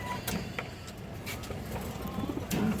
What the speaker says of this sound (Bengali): সুন্দর একটা কবুতর মাসাল্লাহ